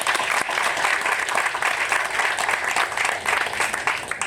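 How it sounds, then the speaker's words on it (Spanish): A crowd at a church ministerial ordination ceremony claps steadily, a dense, even patter of many hands filling the space without pause. "Un aplauso para él."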